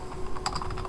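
Quick keystrokes on a computer keyboard clatter in a short burst over a steady background hum, close and fairly soft.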